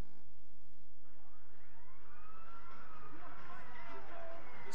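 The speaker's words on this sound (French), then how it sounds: "C'est bien la sirène de police qui retentit dans un espace virtuel que d'aucuns appellent jeux vidéo ou PlayStation." Police siren from a video game, its rising and falling wail sweeping in after about a second and growing louder over a muffled, noisy background.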